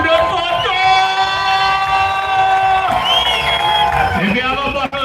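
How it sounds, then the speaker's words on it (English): A festival crowd cheers and shouts for a steel orchestra, a continuous roar of voices and whoops with sustained tones ringing beneath, close and loud. "Give them a round of applause."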